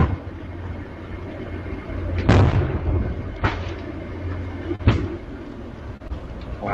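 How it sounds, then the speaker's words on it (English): Several distant explosions thud over a continuous rumbling background, a few sharp booming bursts spaced seconds apart, the loudest around the middle, with no voices. "Wow, you can hear the explosions."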